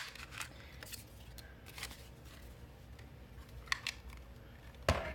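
Handheld paper punches cut through scraps of paper, making several sharp, quiet clicks and crunches scattered unevenly over a few seconds, close to the microphone in a calm room.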